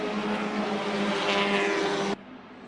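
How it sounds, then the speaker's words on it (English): A Solstice touring car races on track at Circuit of the Americas, its engine giving a loud, sustained buzzing drone that climbs slightly in pitch before cutting off abruptly near the end. "That Solstice has a pretty good little motor in it."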